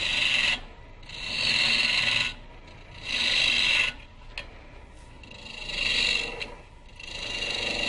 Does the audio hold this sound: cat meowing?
no